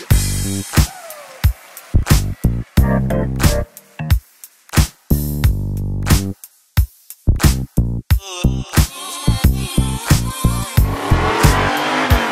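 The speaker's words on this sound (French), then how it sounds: "ce cruising, enfin, nous permet de voir toutes ces voitures qui vont circuler sur le boulevard" Cars cruise a boulevard after the SEMA car show, with loud, close engine revs, roaring passes and bursts of tire squeal arriving in quick, choppy succession with short gaps between them.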